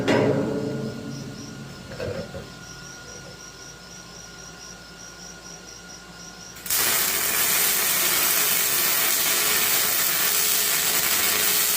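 Side angle iron being welded onto a parade wagon, a loud, steady crackling hiss that starts abruptly partway through and continues unbroken, preceded by quieter shop noise.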